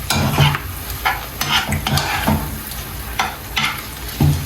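Okra soup stirred in a pot with a spoon, sizzling as it cooks, the stirring strokes coming in a close, uneven rhythm, with no one talking over it.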